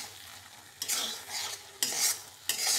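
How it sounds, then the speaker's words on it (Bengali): Spice mix stirred into hot mango pickle, a low hissing background broken by three bursts of wet, scraping mixing, close and fairly loud, with no talking. "এবার মশলাটা দিয়ে একটু সুন্দর করে মাখিয়ে নেব।"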